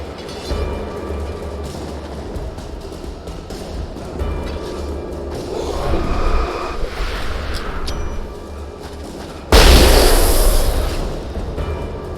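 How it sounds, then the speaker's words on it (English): Flashbang explosions in Alan Wake 2 go off loudly, with a heavy booming burst late on that spreads into a roaring, hissing wash after softer rumbling thumps earlier. "I guess flashbangs are actually pretty explosive in a lot of ways."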